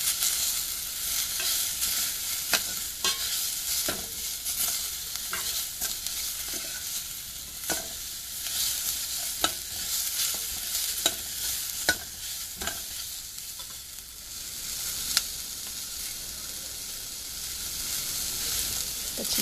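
Chillies sautéing in hot oil for a spinach sambhar: a continuous close sizzle runs throughout, punctuated by frequent sharp clicks and scrapes of a spoon stirring against the pan.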